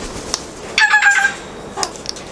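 An eclectus parrot, a pet Guinea parrot handled on a person's hand, gives a brief squawk, then a longer harsh, ringing call and one more short cry, close and fairly loud against a quiet room.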